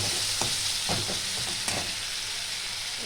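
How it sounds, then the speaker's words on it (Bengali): A spice masala of Kashmiri chilli and salt fries in a pan for a rohu mustard curry: a bright continuous sizzle with several soft stirring scrapes near the start. "দিয়ে এটা একটু ভালো করে একটু ভেজে নিতে হবে"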